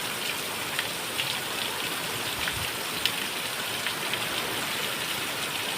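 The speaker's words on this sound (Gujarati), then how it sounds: "ભારે વરસાદ આવે છે" Heavy rain with wind pours down steadily as a dense, continuous hiss and patter, close and loud, with no voices.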